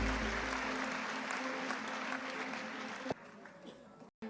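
An audience at a talk event in Jodhpur breaks into loud, dense applause that holds for about three seconds before quickly tapering off, with a voice speaking briefly afterward.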